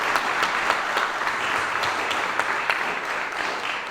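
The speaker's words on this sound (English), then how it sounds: "I want everybody to give them a loud Westbank Real Estate Investors clap" Audience at a real estate investors meetup gives a loud, continuous round of clapping, even and close throughout without speech.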